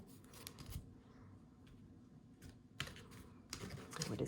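A deck of tarot cards being cut by hand during a reading: quiet, close papery clicks and soft slaps in a few short clusters, with no voices.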